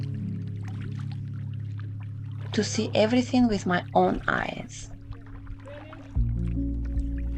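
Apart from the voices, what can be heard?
kayak paddling on the Ocklawaha River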